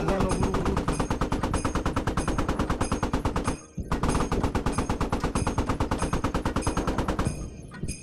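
A machine gun in the Squad video game fires long sustained automatic bursts with a steady rapid rhythm, loud and close, broken by one brief pause and trailing off at the end.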